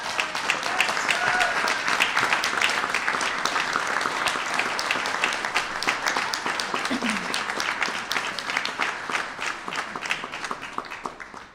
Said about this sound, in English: Can you all clap for these people?